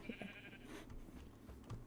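Minecraft sheep bleating in a blocky farm game, a short wavering bleat near the start followed by low game ambience and soft movement noise, fairly quiet and without speech.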